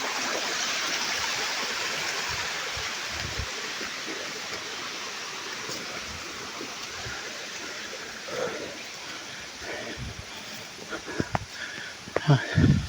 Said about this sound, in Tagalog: Galing sa taas tong tubig na to.